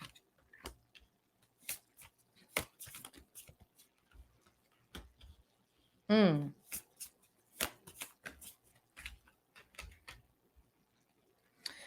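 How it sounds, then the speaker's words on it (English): Tarot cards being shuffled and pulled by hand, close soft riffles and slaps in irregular bursts with a brief louder flutter of shuffling midway. "So we're going to go ahead and pull some cards here."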